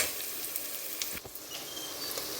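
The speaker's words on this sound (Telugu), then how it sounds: "అవి లైట్ గోల్డెన్ కలర్ వచ్చేదాకా వేయించుకున్నాం" Onion slices frying in a pan until light golden for a Kamareddy-style chicken curry, a soft, continuous sizzle with a faint scrape midway.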